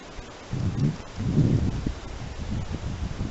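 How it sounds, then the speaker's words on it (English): Gusty wind buffets outdoors in low rumbling surges, rising and falling over a few seconds with no voices. "Oh, sorry about that sound. It's a little windy today."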